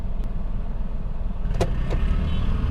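A car pulls away from a standstill in first gear, its engine giving a steady low rumble that rises slightly, close and loud, with a couple of brief clicks and knocks from inside the cabin.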